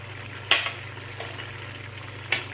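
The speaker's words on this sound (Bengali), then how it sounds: "এখন আমি চিংড়ি মাছটা দিয়ে দিচ্ছি এতে" Prawns dropped into a pan of okra curry give a steady sizzle, with two sharp bursts of spatter and a smaller one in between, close and moderately loud.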